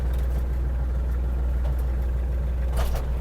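A small Iseki TG-31 mini tractor's diesel engine idles steadily and close by, a low continuous hum with faint clicks as the PTO shaft is shifted through its speeds with the tiller lowered.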